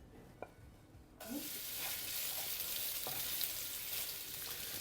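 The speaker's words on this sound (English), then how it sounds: "We need to fry our aromatics first. We add in 10 grams of young ginger," Julienned young ginger hits hot oil in a wok and starts sizzling, a sudden onset followed by steady close frying with light stirring.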